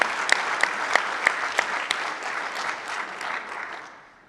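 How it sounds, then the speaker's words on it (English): Convention audience applauding: a dense wash of clapping from many hands with a few sharper nearby claps, steady at first and then tapering off toward the end, with no talk over it. "I want to ask everyone to give a round of applause for the staff of Texas"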